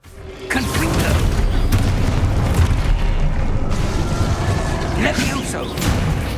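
A Confringo fire spell bursts in Hogwarts Legacy, setting off a loud booming blast that rolls into a long, rumbling roar with crackling debris over continuous game action.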